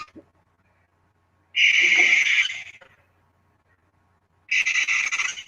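A barn owl gives two loud, harsh, hissing screams, each about a second long and separated by a quiet gap, heard alone with no talking.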